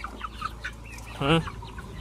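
A single short, harsh guinea fowl call rings out once, fairly close, over quiet outdoor background noise.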